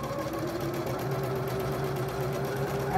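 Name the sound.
domestic sewing machine stitching a blouse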